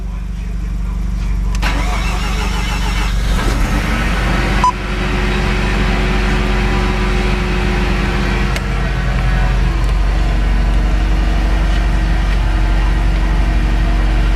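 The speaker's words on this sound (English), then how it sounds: "let's start this car up" A Mazda RX7 FD Type RS rotary engine cranks briefly, catches and fires up, then settles into a loud, steady, close idle with a continuous droning hum.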